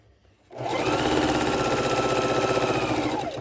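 A sewing machine stitching quilt patches starts up after a brief quiet moment, then runs at a steady fast whirring hum with rapid needle ticking until it slows near the end.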